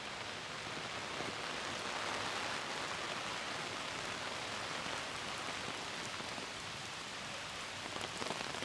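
A downpour drums onto an umbrella in central London near Horse Guards Parade, a thick, unbroken wash of close raindrops holding steady throughout, with no voices.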